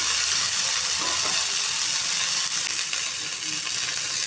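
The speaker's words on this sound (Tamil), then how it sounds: "இதை வந்து நம்ம ஒரு ஃபேனில் எண்ணெய் ஊற்றி கொஞ்சமாக போட்டு நல்லா வதக்கிக்கணும்" Mudakkathan greens sauté in oil in a pan with a loud, continuous bright hiss and crackle, close up and steady throughout, without any talking.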